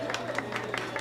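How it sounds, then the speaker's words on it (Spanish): Brief burst of audience clapping during a talk on bioacoustics, dense and lively, with voices mixed in underneath. "¡Un aplauso!"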